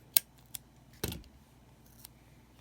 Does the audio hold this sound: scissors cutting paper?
yes